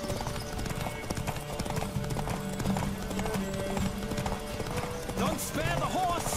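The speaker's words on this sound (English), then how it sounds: "Hombre, el manejo del caballo es bueno" Horse hooves galloping in The Witcher 3: Wild Hunt, a loud, rapid clip-clop with a brief neigh, while someone talks over the game sound.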